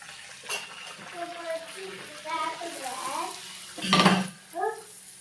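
Puri dough dropped into hot oil to deep-fry, with a soft bubbling sizzle and a brief louder splash of frying near the end, heard under someone talking.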